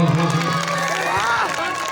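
An audience at a live Hindi comedy and mimicry show claps and cheers, a dense burst of applause with whoops and shouting close by, filling the whole moment.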